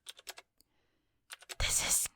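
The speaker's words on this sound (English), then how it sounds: "the keyboard clicked in the background" Quick bursts of keyboard typing in an office, a few sharp keystroke clicks, a pause, then a dense flurry of rapid keys that ends abruptly; close and fairly quiet.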